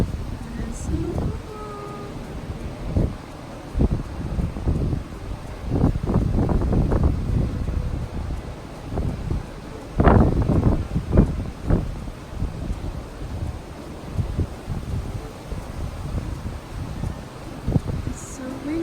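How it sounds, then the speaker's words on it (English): Wind blows at a beach in December, rushing steadily past the microphone, while people talk over it in several loud bursts. "It's so windy out there today."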